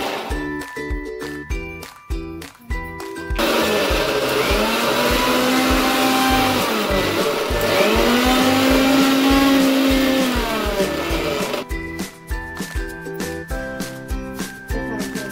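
A mixer grinder grinds garlic and ginger into paste, a loud close whirring roar with rising pitch that runs for several seconds between bursts of music.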